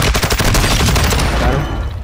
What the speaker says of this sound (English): Another guy shooting at us.